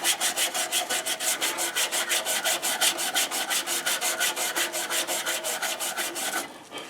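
A wooden segmented pen sanded along the grain by hand: a steady, rapid back-and-forth rubbing rhythm of about five strokes per second, close and loud, continuing without pause and with no voices.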